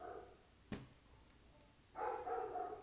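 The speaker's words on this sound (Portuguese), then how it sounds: "Ai, esse cachorro." A single dog's sharp bark rings out once, fairly close, followed by quiet and then a burst of voice-like sound in an indoor room where people sit talking on a sofa.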